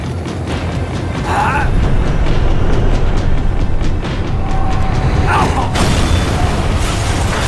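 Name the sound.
tram slowing down in a video game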